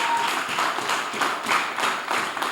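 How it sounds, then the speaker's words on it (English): A poetry slam audience claps in a dense, continuous round of applause for a performer, close and fairly loud throughout. "A round of applause for him one more time."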